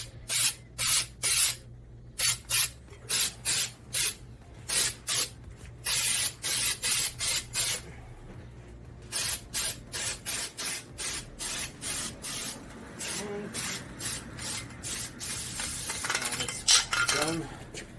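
Short bursts of aerosol rust undercoating sprayed under a Suzuki Samurai, a rapid series of hissing spurts with brief gaps, growing denser and louder toward the end, with no talk.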